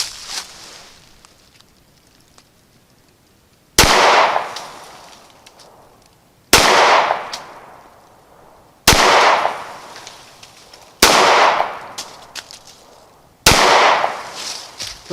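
Ruger Security 9 pistols firing Remington range ammo crack out five sharp, loud single shots spaced a few seconds apart, each followed by a ringing echo that trails off.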